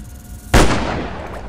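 A single sharp gunshot in the video game Shadows Peak, a sudden loud blast followed by a lingering decaying rumble and echo, with no talk.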